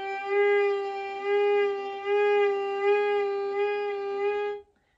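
A single sustained violin note is played slowly with a gentle, even vibrato as an exercise, the pitch wavering in a steady rhythm for about four and a half seconds, close and clear with nothing else audible.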